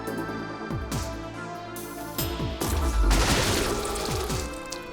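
Shotguns in the sci-fi game Deep Sky Derelicts go off in several heavy blasts, each with a descending tail, growing louder toward the middle and layered over a continuous hum.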